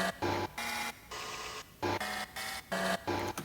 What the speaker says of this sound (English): So what this is the sound of a videotape player fast forwarding a tape.